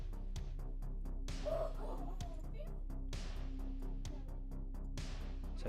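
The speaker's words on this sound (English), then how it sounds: "And there's the dog." A dog yips and barks in short, repeated bursts at a moderate level behind a gaming stream's commentary, with a steady background hum throughout.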